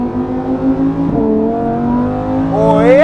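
A Lamborghini Huracan EVO engine roars loudly and close as the car accelerates at full speed through a corner on a track, pitch climbing steadily toward a higher wail at the end.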